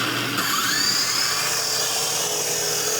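A modified toy helicopter, slimmed down like an Apache, flies with a steady, high-pitched whining buzz from its small motor and rotor, close and continuous with slight pitch shifts throughout.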